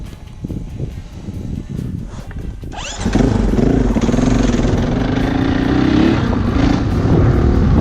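A KTM 450 EXC-F 6Days dirt bike rides by, its engine building from a low rumble to a loud, steady close roar after a few seconds and holding strong to the end.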